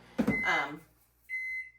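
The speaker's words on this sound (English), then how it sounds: "There's my microwave." A single steady electronic microwave oven beep rings out near the end, with a brief clatter and hum just before it.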